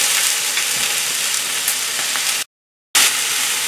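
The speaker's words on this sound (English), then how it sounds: "Green pepper, onion, stir fry." Loud, continuous sizzle of green pepper and onion being stir-fried in a hot pan, close up with steady hiss and a brief cut of silence near the end.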